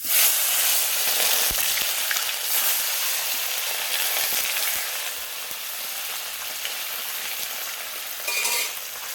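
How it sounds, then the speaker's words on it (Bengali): Bata fish sizzle and crackle in heated oil in a kadai, a dense, steady frying hiss with small pops and stirring clatter, close and loud with no voices. "মাছগুলো এবার ভাজবো।"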